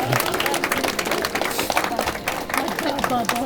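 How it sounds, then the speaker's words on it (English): Wedding guests applauding at an outdoor villa ceremony, a moderate round of clapping from a small crowd that runs throughout while people keep talking over it. "Come on, guys, that deserves a clap"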